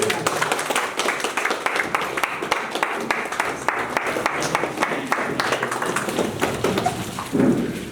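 An audience claps steadily to welcome the chief guest, a committee chair arriving at the opening of a leadership training; dense, sustained applause with a few louder thumps near the end.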